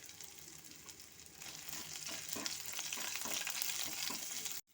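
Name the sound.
grated ginger and green chillies frying in oil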